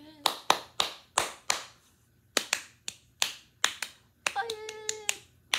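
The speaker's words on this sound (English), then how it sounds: "Clap your hands." Sharp, close hand claps in a steady beat during a song, loud individual strikes in rhythmic groups with short gaps, and a singing voice joining near the end.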